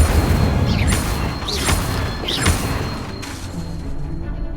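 Incendio fire spell cast in the video game Hogwarts Legacy, three fiery whooshing bursts about a second apart with thumping impacts, followed by a quieter tail.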